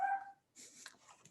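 A dog whimpers with a thin, high whine, then gives a few short yips and barks a little way off in the background.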